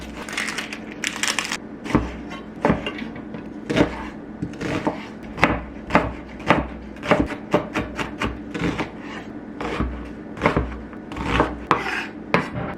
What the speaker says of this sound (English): 1 onion, diced.